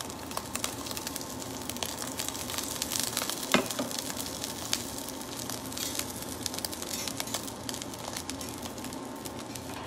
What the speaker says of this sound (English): Little bit more oil just so that we have a good release when we look to turn our salmon here.